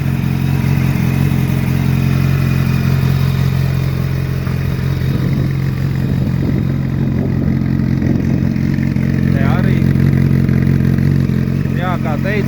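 A motorcycle engine running on its original exhausts, a steady loud mid-pitched idle with a faint mechanical clatter, close by, while someone talks over it.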